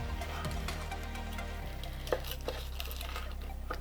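A knife cuts grilled chicken into roughly 2 to 3 cm cubes on a board, giving a few faint, separate taps and clicks over a low steady background hum. No voices.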